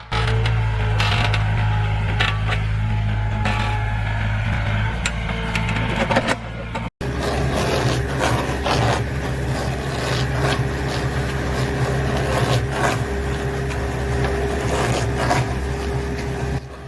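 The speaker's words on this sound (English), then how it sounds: "With controlled force, it begins to twist, its massive head rotating, breaking through roots like threads." A giant stump grinder machine twists and rotates its massive head to break a tree stump loose from the ground, with a steady loud mechanical drone, woody cracking and splintering, and a brief cut partway through.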